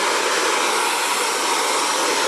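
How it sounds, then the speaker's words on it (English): Xtava Allure ionic ceramic hair dryer blowing steadily, a loud, close, unbroken broadband whoosh with no pauses. "I would have to say this is the first blow dryer"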